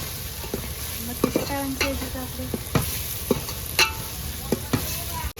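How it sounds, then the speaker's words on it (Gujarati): A spoon stirs egg manchurian in a pan, scraping and clinking in irregular strokes over a steady low sizzle, close and fairly quiet. "તો આપણે હલાવવાનું શરૂ કરી દીધું મિત્રો"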